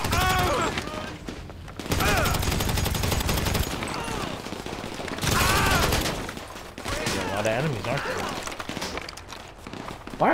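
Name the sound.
automatic weapons gunfire in video game GTA Online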